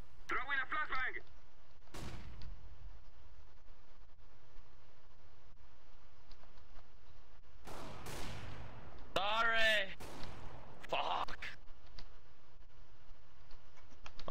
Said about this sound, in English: Throw in a flashbang!